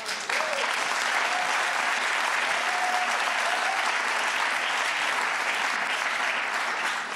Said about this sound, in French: Acclamons ensemble pour le Seigneur